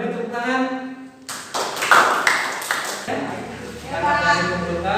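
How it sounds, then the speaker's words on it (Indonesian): A crowd claps for a few seconds after a teaching performance, the applause swelling in the middle, with a voice talking before and after it. "beri tepuk tangan."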